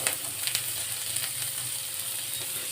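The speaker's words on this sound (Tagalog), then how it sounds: "Ay, kumukulo. Ayan. Haluin natin para hindi dumikit ang ating macaroni." A pot of macaroni soup boils on the stove while it is stirred, giving a soft, steady sizzling bubble with faint utensil clicks against the pot.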